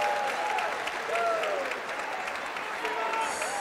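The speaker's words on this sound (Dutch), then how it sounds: "Het publiek vraagt voor een opzettelijke fout" Basketball crowd at a Belgian cup game between Oostende and Limburg United shouts and roars in a sustained wave, with scattered whistles and shoe squeaks under the noise.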